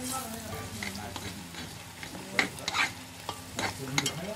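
A spoonful of oil sizzles in a pan while food is stirred, with steady frying crackle and repeated scraping spoon strokes close by.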